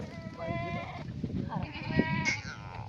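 Goats and their kids bleat at a hillside farm field, several overlapping calls close by and fairly loud, with a low murmur of activity underneath.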